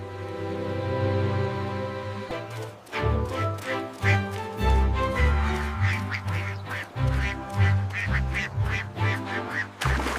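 Rhythmic quacking sounds, likely a voice imitating a duck, repeat in quick bursts over a bouncy children's tune with steady bass.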